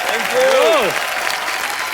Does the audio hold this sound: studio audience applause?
yes